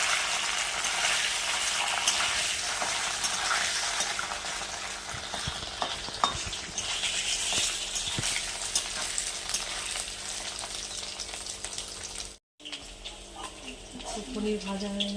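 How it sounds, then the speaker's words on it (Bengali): Paneer cubes fry in a hot pan for paneer pulao, giving a steady, close sizzle with scattered clinks and scrapes of stirring. The sound cuts out for a moment near the end before the sizzle resumes. "তো আমি এবারে পনির ভেজে নিচ্ছি, পনির পোলাও করবো"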